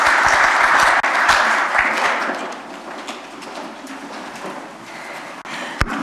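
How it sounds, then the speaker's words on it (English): Loud applause from a seminar audience fills the room, steady at first and then gradually thinning out toward the end. "we will give our panel a big applause"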